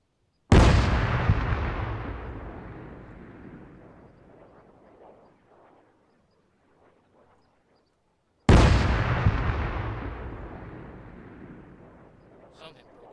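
Two loud, booming cannon or gun blasts at an outdoor Veterans and Remembrance Day ceremony, each with a long rolling echo, spaced about eight seconds apart.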